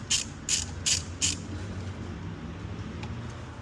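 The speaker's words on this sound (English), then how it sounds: "loosen up this bolt here on the top of the head." Four quick ratchet clicks loosen a bolt on top of the cylinder head of a 2023 Honda Civic Type R engine, close and crisp, followed by quieter background noise.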